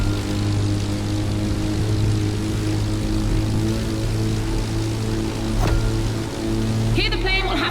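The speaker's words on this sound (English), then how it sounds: "once the plane is airborne, it's a different story" Propeller plane engine in the racing game The Crew Motorfest during a Red Bull Speed Clash against a race car, a steady loud droning hum with strong harmonic tones running throughout, a brief crackle near the end.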